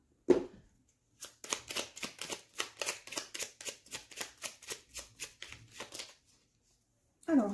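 Oracle cards being shuffled in a series of about fifteen quick riffling bursts in a steady rhythm, close and fairly quiet, with brief handling sounds at the start and end and no talking.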